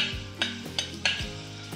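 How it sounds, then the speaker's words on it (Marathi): Crushed garlic drops into hot oil in a pressure cooker and sizzles, with a few sharp spoon-and-pan clinks punctuating the frying, close up and without talk. "सगळ्यात आधी थोडंसं लसूण जो ठेचून घेतला आहे हा ठेचलेला लसूण घालूया."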